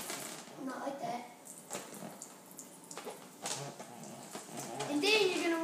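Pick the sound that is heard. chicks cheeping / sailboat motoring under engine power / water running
water running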